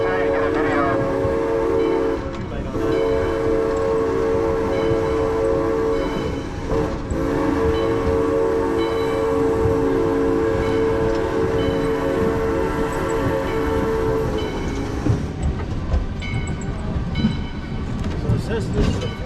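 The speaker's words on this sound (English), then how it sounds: "our engineer is going to ring the whistle and ring the bell and blow the whistle" A steam locomotive on the Yosemite Mountain Sugar Pine Railroad, a logging heritage line, sounds a long, loud, sustained whistle with layered harmonic tones at a crossing, with bell ringing and rolling train noise underneath, easing off near the end.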